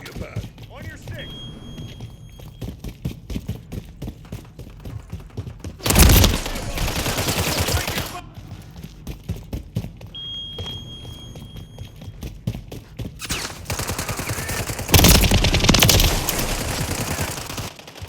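Rapid automatic gunfire in the video game Call of Duty MW3 during a team gun game, with bursts of firing and louder blasts breaking through steady background shooting and game sounds.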